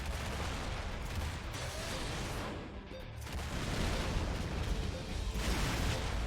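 Cannon shots in the Sky Cannoneer strategy game: repeated booming blasts and rumbling volleys that overlap continuously, with a short lull midway, heard quietly and without talk.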